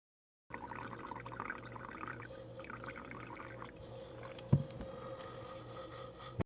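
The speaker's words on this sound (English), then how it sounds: "we have to add hydrochloric acid until the pH is between 1 or 2." Hydrochloric acid poured into a phenytoin sodium filtrate during a phenytoin synthesis, giving a steady low liquid pouring and trickling sound with a single sharp clink partway through, no voices.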